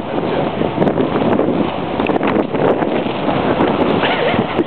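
Wind roars steadily against an umbrella held up in a blizzard, a dense, close, blustery rush of noise with brief flaps and buffets, while voices can be heard faintly underneath.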